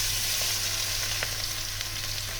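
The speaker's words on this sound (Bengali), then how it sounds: "পেঁয়াজটাকে একটু ভাজা ভাজা করে নেব" Chopped onions sizzle steadily in hot oil in a pan, a loud, continuous crackling fry with no talking.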